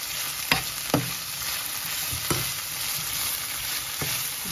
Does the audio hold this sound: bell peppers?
yes